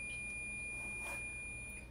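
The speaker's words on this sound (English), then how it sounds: "That was the beep. That was the timer, which tells me that my tea is ready." A loose-leaf tea timer gives a thin, steady high-pitched electronic tone that holds for nearly two seconds, faint against a quiet indoor room.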